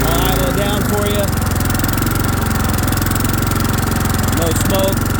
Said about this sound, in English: Motor runs super smooth. I'll idle it down for you.